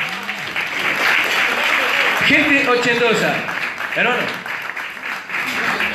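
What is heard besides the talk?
audience applause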